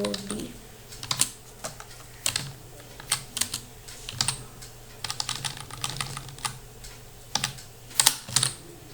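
HTML code is typed on a computer keyboard in uneven clusters of crisp, close key clicks, with brief pauses between bursts and a louder tap near the end.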